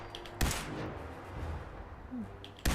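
Shotgun blasts from Hancock, a companion in Fallout 4, ring out as two sharp, loud broadband cracks, one early and one at the very end, over a low rumbling game ambience with a faint tonal chirp between them.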